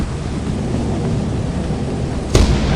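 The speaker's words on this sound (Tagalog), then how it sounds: "Thunder, take shelter." Thunder in Lethal Company: a sustained rumbling roar with a sudden sharp crack near the end, loud and broad, with no voices.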